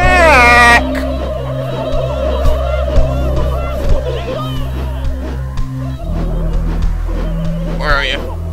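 Turkeys gobbling in the South Park N64 video game, repeated bursty game-creature calls over a steady low background hum, with a voice talking over parts of it.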